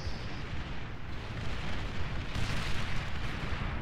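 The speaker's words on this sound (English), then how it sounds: "defense tentacles, as you can tell, lob and shoot really high powered explosives" Dense, continuous roar of high-powered explosives lobbed and shot by defense tentacles in a video game, loud, overlapping booms blending into a sustained rumble with no talking.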